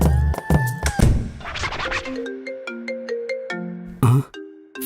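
A mobile phone ringtone plays a bright, stepping electronic melody of repeated tones, preceded by a few scratchy rustles and thumps, with no talking.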